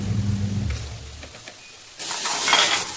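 Garlic frying in oil in a pan as saag greens go in: a quiet stretch with low hum, then a sudden, bright, loud hiss that builds and holds to the end.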